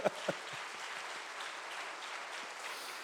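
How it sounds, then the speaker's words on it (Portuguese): A church congregation claps hands during a Portuguese-language sermon, a soft, steady wash of many hands clapping at a distance, opening with a couple of sharper nearby claps before settling into even, fairly faint applause. "Bata as palmas para o Senhor."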